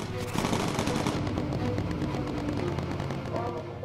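Rapid machine-gun fire in the video game Bomber Crew, a dense, continuous rattling burst over engine drone, loud and sustained for the whole stretch, with a voice talking over the gunfire.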